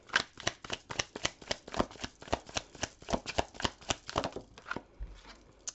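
Tarot cards are shuffled in quick, rhythmic riffles, a steady run of crisp close flutters and taps, quiet and alone, ending in a soft settle.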